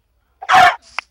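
A chicken in Minecraft gives one brief, loud, squawking hurt cluck followed by a faint short pop as it is killed, with no talking.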